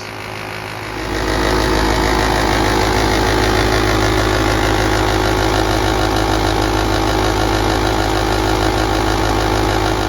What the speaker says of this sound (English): So right now the engine's at normal operating conditions